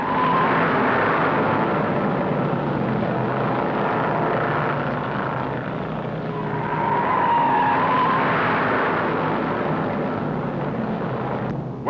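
Stock cars racing at speed in the 1961 Daytona 500 at Daytona International Speedway, a continuous loud roar of engines droning and swelling as cars pass, with a whining tone rising and falling across the field.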